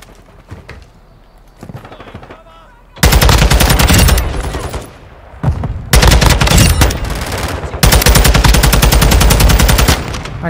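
Rapid automatic fire from a TAQ-56 rifle in Modern Warfare 2, loud sustained bursts separated by short gaps, following a quieter opening stretch.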